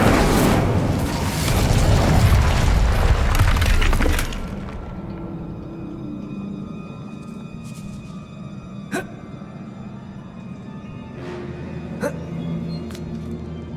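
An Incendio fire spell cast in a Harry Potter video game bursts in a loud, roaring whoosh for about four seconds, then fades to a quiet ambient hum with a couple of faint sharp clicks.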